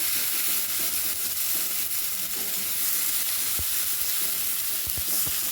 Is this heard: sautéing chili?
yes